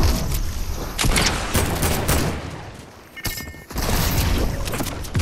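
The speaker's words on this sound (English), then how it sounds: "I'm getting shot." Rapid bursts of video game gunfire crackle and pop in a dense, loud barrage, with heavy volleys and a brief lull before the shooting resumes.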